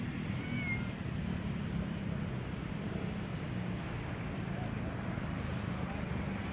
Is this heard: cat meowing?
yes